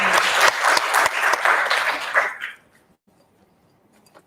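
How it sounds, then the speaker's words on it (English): Audience at a community dialogue on maintenance claps warmly together for about two seconds, then the applause fades quickly to near silence. "So I really would like us to just give another warm hand of applause for another"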